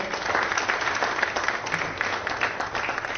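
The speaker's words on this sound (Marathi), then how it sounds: "या सगळ्यांसाठी जरा एकदा जोरदार टाळ्या जाऊन द्या" An audience applauds steadily at MahaBrand 2026, a Marathi business brand event. The dense, even clapping is fairly loud and fills the whole stretch with no talk over it.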